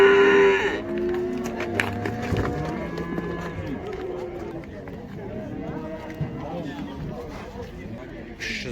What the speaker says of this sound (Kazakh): 1 жасқа толмаған екен, еркек бұзау